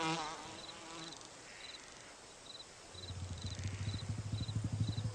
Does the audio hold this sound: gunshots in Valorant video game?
no